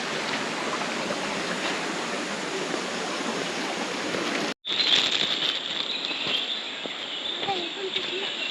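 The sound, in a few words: waterfall water falling down from Bushi dam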